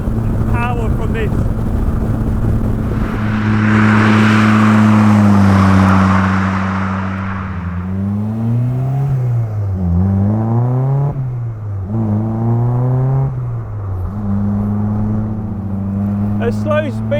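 A Honda Civic K20 VTEC engine in an MK Indy RX-5 kit car accelerates and shifts gears, its loud engine note climbing and dropping repeatedly as it rises through the revs, heard from inside with someone talking over it.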